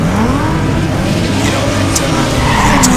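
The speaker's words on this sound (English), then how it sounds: "You got some drifting in here" Tires skid and screech while a car drifts in a racing video game, a loud continuous smear of tire noise over engine roar, with no talk.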